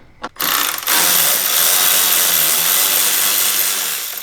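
A ratchet wrench turned steadily on a BMW 335i during DIY exterior work, a loud close continuous rapid clicking that starts after a brief tap and runs without pause, with no talk.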